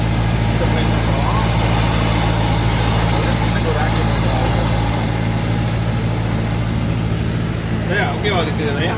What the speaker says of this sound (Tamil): இதுதான் நம்ம ஏற போகிற ஃப்ளைட்டு.